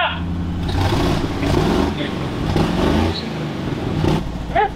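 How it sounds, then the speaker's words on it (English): A Ford Bronco off-road buggy engine revs up, rising and falling in a mid-pitched growl with steady idle beneath, close by, while people talk over it. "Give it a little rev ski."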